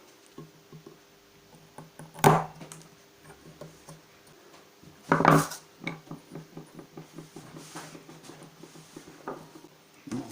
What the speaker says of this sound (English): it's easy enough just to trim it up with the chisel